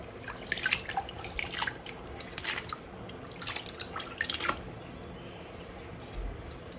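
Water splashes and drips over the leaves of a potted houseplant during washing, in uneven bursts of pouring and trickling that stop briefly and start again, close by with no talking.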